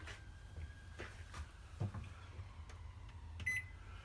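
A microwave oven running on high while cooking an all-in-one pasta with veg, prawn and chorizo in tomato sauce, giving a low steady hum with a few faint clicks and ticks, no talking.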